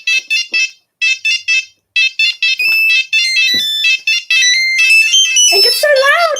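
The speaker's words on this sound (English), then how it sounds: "I'll play you my old ringtone." A loud electronic phone ringtone: short bright melodic beeps in quick bursts that build into a denser, warbling jingle toward the end.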